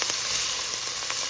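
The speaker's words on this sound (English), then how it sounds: "let's just give this a stir" Onions, carrots and celery sautéing in a pot give a dense, even sizzle with a couple of soft stirring scrapes, close and continuous.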